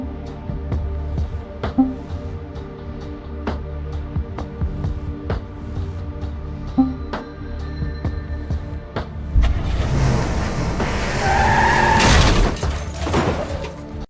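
A car crashes at very low speed in the video game Technobabylon: a long stretch of quiet ambient hum and faint clicks, then a loud, sustained crunching impact with rattling debris near the end.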